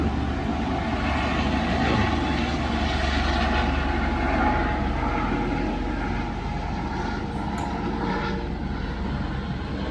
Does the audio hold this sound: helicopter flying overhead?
yes